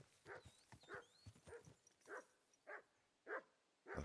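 Horse hooves in a video game clop in a slow, even rhythm, one distinct step about every half second, close and clear against a quiet background.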